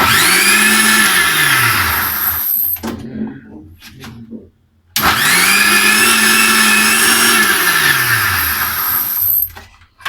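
An electric blender whirs loudly as it mixes oil into homemade mayonnaise, running in two long bursts with a brief pause between, the motor pitch dipping and steadying as the mix thickens.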